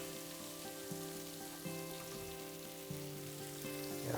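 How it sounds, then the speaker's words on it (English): Onions sizzle steadily on a hot griddle while being cooked down for cheese steaks, a close, even crackle with a few faint clinks and a rising hiss near the end. "Get our onions going here."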